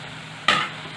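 A single quick stir of green garlic and green onion stuffing for bharelo rotlo in a pan, one short scraping swish over a low steady background hiss.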